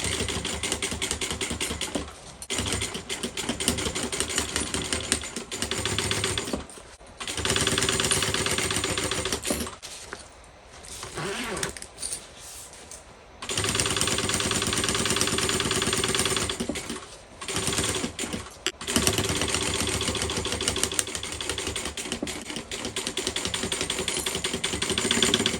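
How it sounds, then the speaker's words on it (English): A sewing machine stitches rows along a seam of a tote bag, running in fast steady bursts with short pauses between stretches, close and clear. "I'm going to do 2 rows of stitching."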